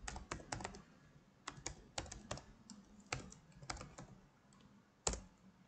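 Rapid keystrokes on a computer keyboard as an email password is entered, coming in short irregular bursts of sharp clicks with brief pauses, close and clear, with no voices.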